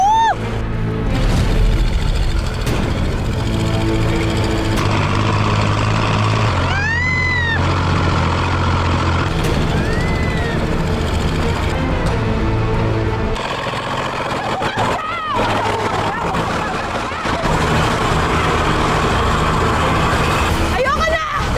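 A farm tractor engine runs continuously at close range with a steady, loud mechanical drone and shifting hum while it is driven, and people talk and exclaim over it throughout.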